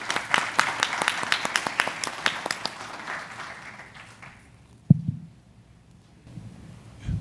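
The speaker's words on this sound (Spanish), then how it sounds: "Un aplauso, por favor." Audience applause after a speaker's introduction at a conference on computational applications for urban mobility, brisk clapping that thins out over about four seconds, then a bump and a quiet room.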